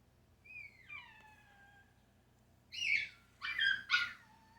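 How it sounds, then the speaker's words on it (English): A dog indoors gives a few high whiny whimpers, then a cluster of short, sharp yelps and barks toward the end, fairly faint against a quiet room. "Excuse my dog in the background."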